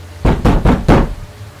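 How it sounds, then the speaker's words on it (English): Four firm knocks on a door in a horror video game, loud and close, spaced evenly and then stopping, with no voices over them. "Why are you knocking?"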